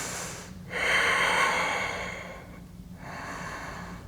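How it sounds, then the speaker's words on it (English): Slow, deep breath taken during a beginner yoga practice, a long steady breath sound rising and holding for about two seconds, then easing, close and clear with no talking. "and breathe here"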